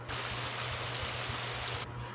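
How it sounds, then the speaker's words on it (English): Steady, dense hiss of rain pattering against glass, constant and fairly close, with no voices, cutting off abruptly near the end. "The rain falling on a window"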